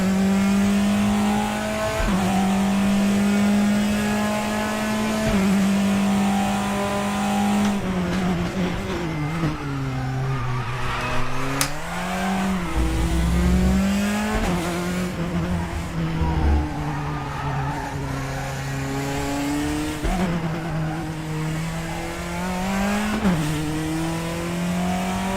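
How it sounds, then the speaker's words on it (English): A Praga race car laps the Gellerasen circuit in the RaceRoo racing game, its engine roaring continuously with rising and falling revs through gear changes, downshifts and corners, loud and steady throughout with occasional tire squeal. "Headphones on, volume up. Enjoy a lap in the Praga at Gellerasen."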